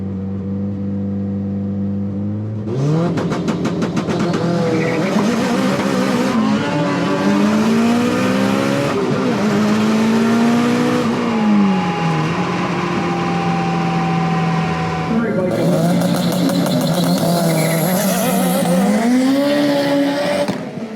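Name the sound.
Turbo AWD Eagle Talon drag racing down the track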